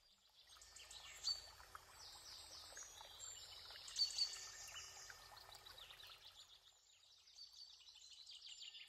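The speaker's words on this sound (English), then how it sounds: "garden warbler" Garden warbler song: a fast, continuous warbling stream of bright notes, moderately near and fairly faint, running steadily throughout with a few louder phrases and no voices.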